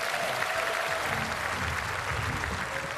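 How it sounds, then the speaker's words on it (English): Dense, steady applause fills a comedy show audience at the Adelaide Fringe Festival, a continuous wash of clapping at close range without a break. "Paul, big round of applause, please."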